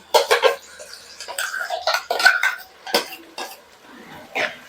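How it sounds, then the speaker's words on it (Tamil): A ground paste of coconut, three tomatoes, two onions and fennel is stirred into hot oil for a sardine curry, with close, irregular scrapes and clatters of a utensil against the pan. "ஆட் பண்ணி இந்த மாதிரி எண்ணெயில் போட்டு அப்படியே நம்ம வந்து பரட்டி விடுறோங்க"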